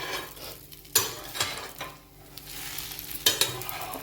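A dosa cooking on a tawa that has not been used for a couple of weeks: a soft sizzle with scraping and clinks of a spatula lifting the edges, a few sharp metallic taps standing out.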